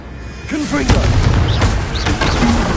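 The Confringo explosive spell blasts in the Hogwarts Legacy video game, heavy booming bursts rumbling under loud battle noise and a shouting voice.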